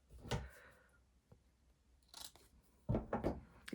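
Old fabric scrap being cut and torn by hand for junk journal snippets, a few short, quiet crisp snips and rips separated by pauses, close by with no talking.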